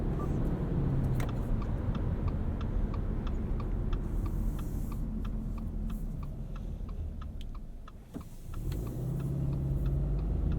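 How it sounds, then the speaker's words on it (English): A 2019 Subaru Forester Sport with a CVT accelerates on the road, its engine drone rising smoothly over steady tyre and road noise, with regular ticking from the cabin and a brief dip near the end. "For a CVT, it's pretty darn good. At least you can control the RPMs that the car sits at."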